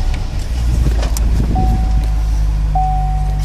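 An electric power passenger seat motor in a silver 2005 Chevrolet Corvette Z51 coupe whirs faintly inside the cabin, with steady low engine hum throughout and a thin high tone appearing twice.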